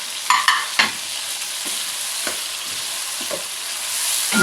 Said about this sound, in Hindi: यहाँ पे मैं ऐड कर दूँ इसके साथ ही लहसुन, ताकि चिकन जो है वो अच्छा सा हमारा फ्राई हो जाए।